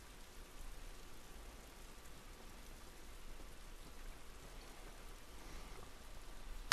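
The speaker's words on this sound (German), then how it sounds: "Dieser Regen ist nicht gut für uns." Steady rain falls in the video game The Last of Us Remastered, a continuous even hiss of drops pattering on surfaces outdoors, moderately quiet and unbroken, with no talking over it.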